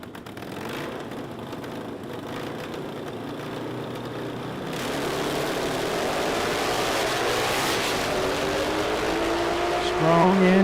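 Bagger motorcycles launch in a drag-racing final at the AMRA Ohio Nitro Nationals, a distant engine drone swelling into a louder, rising roar midway that keeps building toward the end, with an announcer talking over it.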